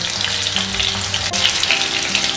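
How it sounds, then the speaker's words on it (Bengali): Spice-coated potol (pointed gourd) frying in oil in a kadai produces a loud, close, steady sizzle with constant fine crackling and no voices over it. "এবার পটলগুলোকে একটু টাইম নিয়ে লাল লাল করে ভেজে নিতে হবে।"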